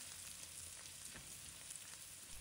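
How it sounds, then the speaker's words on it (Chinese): Minced garlic and ginger crackle and sizzle as they are stir-fried in a hot wok, a steady close frying hiss throughout with no talking. "将蒜末和姜末一同放入锅中，快速翻炒"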